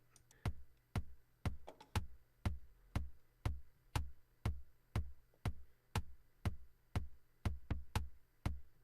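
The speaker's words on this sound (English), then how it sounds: "You can hear the metronome in the background." A simple programmed drum beat in Reason+ software with a steady kick pulse and metronome clicks ticking in even time, quiet and mechanical.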